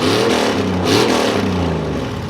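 A carbureted 302 V8 with shorty equal-length headers revs up and down, a loud close throaty roar with the pitch rising and falling, alone and without any talk.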